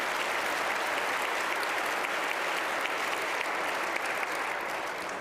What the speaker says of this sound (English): Somebody can give him a round of applause.